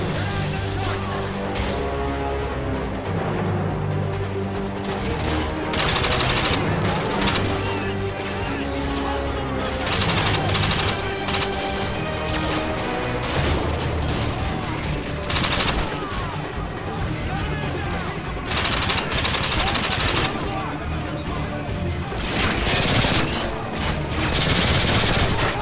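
Sustained gunfire in Call of Duty: Modern Warfare 2 on PC rattles almost without pause, with dense automatic bursts, heavy booms and battlefield clatter staying loud and close throughout.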